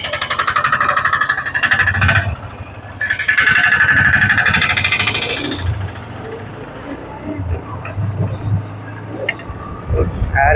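A 2020 Apache RTR 160 4V BS6 motorcycle engine runs while the bike is ridden through mixed traffic and highway, with a steady low hum and rises and falls in revs as a voice talks over it.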